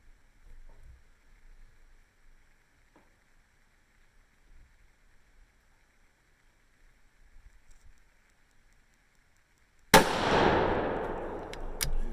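A Savage .243 rifle firing Hodgdon H4350 loads with Nosler 105-grain RDF bullets: one loud, close shot cracks out after about ten seconds of near silence, then rings off in a long decaying echo.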